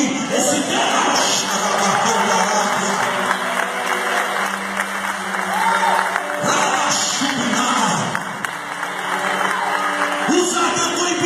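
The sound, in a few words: congregation applauding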